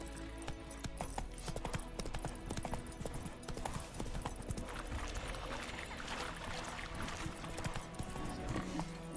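Roach, Geralt's horse in The Witcher 3, gallops at speed, with a dense, continuous clatter of hoofbeats over a steady game soundscape.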